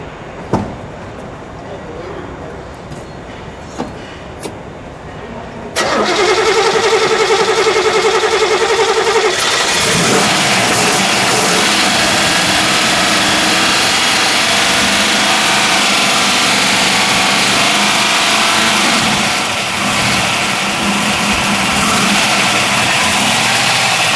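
A 1967 Chevrolet Camaro Z28 V8 cranks for a few seconds, then fires and settles into a loud, steady idle that runs on close by, with a speaking voice now and then and a brief rise from a small rev.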